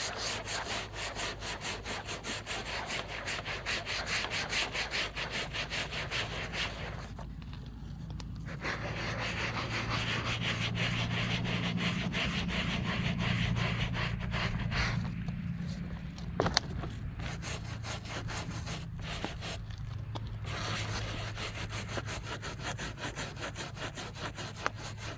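Old foam being scraped off a Jeep XJ headliner board, a continuous rough rasping scrape that repeats in quick strokes for the full length with brief pauses, close to the microphone.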